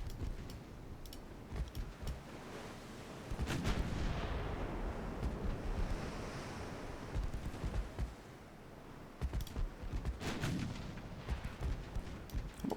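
Naval artillery fire in a video game about dreadnought battleships: heavy broadband booms and rumbling blasts recur across the stretch, with sustained low roar and noise between the shots and no voices.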